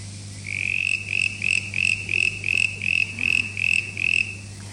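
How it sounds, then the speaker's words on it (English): Southern brown tree frog (Litoria ewingii) calling in winter, a run of about eleven rapid, evenly spaced pulsing trills. It sounds close and clear over a low steady hum. "This is the southern brown tree frog, Latoria ewingi."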